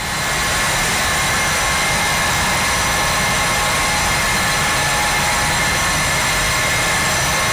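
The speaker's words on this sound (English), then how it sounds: "Alright, we have 3 good engines" Three jet engines of a Carenado Falcon 50EX running in X-Plane 11, a loud, steady turbine roar and whine holding constant from start to finish, with no voices.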